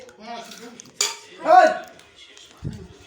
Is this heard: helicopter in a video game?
no